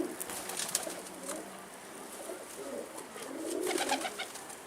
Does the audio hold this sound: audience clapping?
no